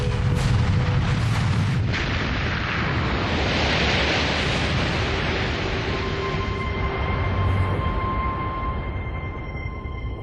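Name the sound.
volcanic explosion of Eyjafjallajökull eruption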